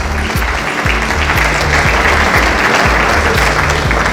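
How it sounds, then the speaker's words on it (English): Audience at an Indian Medical Association gala gives a sustained round of applause, loud, dense and continuous throughout, with low speech-like tones faintly underneath. "let's have a round of applause for his sacrifice"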